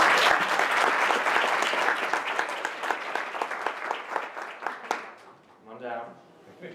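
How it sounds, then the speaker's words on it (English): Audience at a student presentations and awards event applauds for a team, a full burst of clapping that gradually thins and fades, followed by a voice speaking near the end. "how about another round of applause for team number 5"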